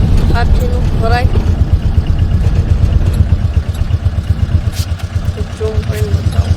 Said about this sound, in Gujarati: ટ્રેક્ટર આવે છે